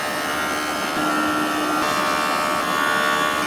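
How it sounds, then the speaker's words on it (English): A vacuum on a JOOLTOOL runs with a steady, loud whir while cloisonné enamel is lightly polished, holding an even hum with slight shifts in pitch throughout. "Put the vacuum on."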